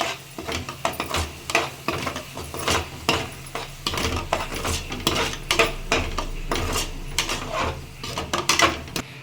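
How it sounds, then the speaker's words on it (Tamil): A utensil stirs masala spices into vegetable kurma in a metal pan, producing repeated irregular scraping and clinking strokes at close range, with no one speaking. "எல்லா மசாலாவும் இப்போ மிக்ஸ் பண்ண போகிறோம்"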